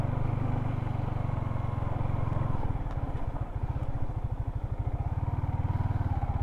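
A motorcycle rides along a rough dirt track in rural Nueva Vizcaya. Its mid-pitched engine chugs steadily up close and carries on throughout, with rattling and bumping from the uneven ground and no talk over it.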